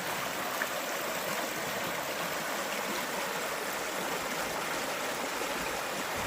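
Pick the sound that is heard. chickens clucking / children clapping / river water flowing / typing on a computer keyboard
river water flowing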